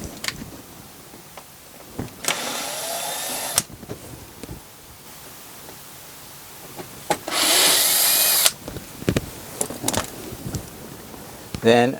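A power drill backing out T20 star screws inside a van gives two separate whirring bursts, each lasting about a second, with quiet handling clicks and knocks in between.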